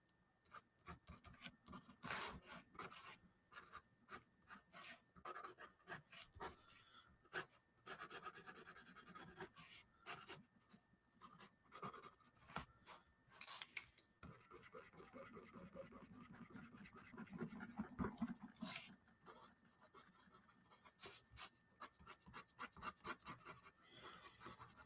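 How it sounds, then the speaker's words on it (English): A pen lays cross-hatched ink strokes on paper in quick, quiet scratches. The strokes come in irregular bursts with short pauses, very faint and close, and no talking is heard. "Some good old American cross-hatching right here."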